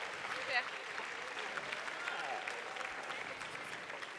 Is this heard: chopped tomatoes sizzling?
no